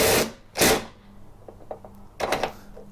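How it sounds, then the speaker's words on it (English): A wrench slips off a nut on the wobbly wheel of a Toro Recycler mower: two sharp metallic scrapes close by, then small clicks and a final rattling clatter. "That's me losing the grip on the wrench"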